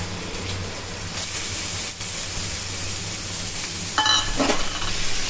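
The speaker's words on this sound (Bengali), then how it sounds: "প্রথমে এই পেঁয়াজ কুচি দেওয়া হচ্ছে" Chopped onion frying in a hot pan, a steady close sizzle with a brief louder crackle and stirring near the end.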